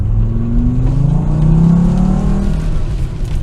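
A stock non-turbo 2.4-litre car engine with a CVT and factory exhaust revs up steadily and loudly, its pitch rising and then easing back over a few seconds, heard close and alone.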